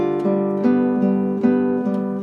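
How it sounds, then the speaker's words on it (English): A chord strummed slowly across the strings of a classical guitar rings out warm and mellow, with several spread strums each letting the notes bloom and decay, close and alone without any talking. "you might prefer the more luxurious sound of a strum"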